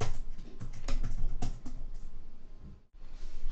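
Someone types steadily on a computer keyboard while programming a 2D game in Java. The key clicks are close and fairly quiet, with a few louder taps and a brief pause near the end.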